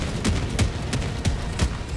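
Mortar strikes land in the video game Helldivers 2, a rapid, evenly spaced series of about five loud, heavy booms close together.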